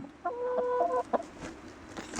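A Barred Rock chicken clucks and squawks close by, a drawn-out tonal call followed by a couple of short clucks over quiet background noise.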